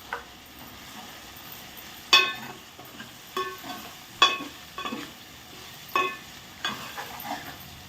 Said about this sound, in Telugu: ఈ బంగాళదుంపతో పాటు వేగుతూ ఉంటుంది. ఉల్లిపాయలు వేగి పచ్చిమిరపకాయ కింద వేయాలి.